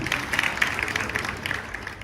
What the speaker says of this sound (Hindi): जोरदार तालियों से इनका स्वागत किया जाए।